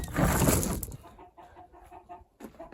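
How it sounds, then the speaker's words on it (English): After a brief burst of loud rustling, chickens roosting in a backyard coop cluck softly and intermittently nearby. "Got some chickens already roosting."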